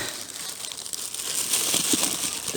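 A bag of bird seed crinkled by hand in a park, close plastic rustling and crackling that grows a little louder toward the end.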